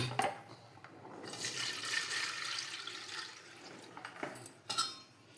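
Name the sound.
straining a liquid kharvas mixture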